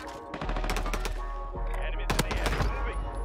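Gunfire in the Warzone video game crackles in quick repeated bursts, loud and close, with rapid shots running almost continuously through the moment, and talk is heard alongside.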